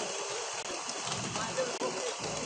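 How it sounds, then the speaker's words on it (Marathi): Rain falls over an outdoor political rally in Nashik, a soft, continuous hiss of drops on surfaces that stays fairly faint and even, with no crowd or voices standing out. "पाऊस सुरू झालाय, महाराष्ट्रात पाऊस पडतोय"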